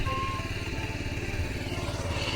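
A tractor is driven across a hillside farm field in the mountains, its engine putting out a steady, close, unbroken chugging drone with no talk over it.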